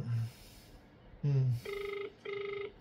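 A phone call rings out unanswered: after a low buzz, two-tone electronic ringback bursts repeat in even pulses, clear and close, over faint room noise.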